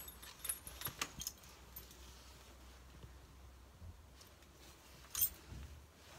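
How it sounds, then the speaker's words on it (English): Keys jangle faintly in a quiet, empty attic of an abandoned cottage, with a few soft metallic clinks early on and another brief rattle near the end. "Some keys."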